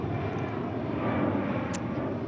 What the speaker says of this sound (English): Very loud aeroplanes going overhead, which we hear quite often.